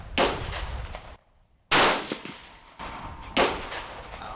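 Three sharp rifle shots ring out at a shot-marker target during a barrel tuner test with a 28.8 grain Varget load. Each loud crack is spaced about one and a half seconds apart and trails off into a short echo.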